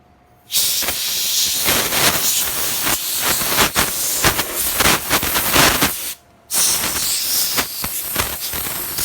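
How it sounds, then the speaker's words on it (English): Compressed air blasts over an arcade Pole Position circuit board, two long loud hissing bursts with a brief pause between, close and harsh, no talking. "now I'm going to get some compressed air just to blow it out"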